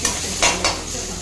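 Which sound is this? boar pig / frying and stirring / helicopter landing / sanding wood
frying and stirring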